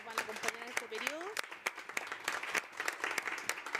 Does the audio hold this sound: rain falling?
no